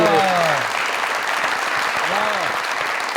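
A studio audience on a comedy talk show gives loud, sustained applause for a guest named Shahid, dense clapping throughout with a voice heard briefly over it.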